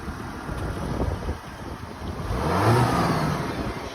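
A city-owned car at a municipal auction is shifted into gear and driven forward and back, its engine rumbling nearby and swelling as it moves, with wind buffeting the microphone.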